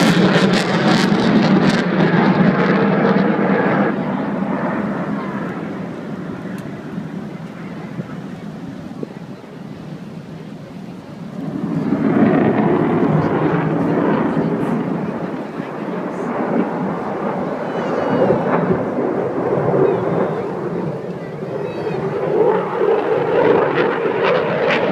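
Loud jet aircraft roar sweeping overhead at an air show, rising and fading with wind buffeting the microphone throughout, no talking.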